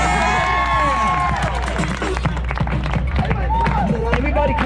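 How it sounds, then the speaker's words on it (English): Crowd at New York's Easter Bonnet Festival clapping hands amid a dense, lively street din, with shouting voices and cheering layered over the claps. "Everybody clap those hands."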